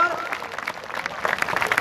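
Audience at a two-day youth cultural festival in Mohla claps to welcome an honoured guest. The applause is moderately loud and thickens toward the end, with a murmur of voices underneath.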